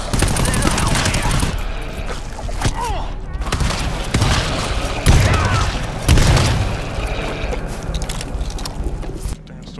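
Machine gun fire in the GTFO video game: dense, continuous loud rattling with heavy booms and thuds mixed in, running the whole time at close range.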